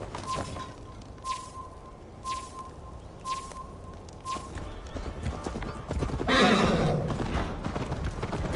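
A horse's hooves clip-clop steadily in the game Assassin's Creed Valhalla, with a faint repeating chime over them, then a loud, close whinny breaks out near the end.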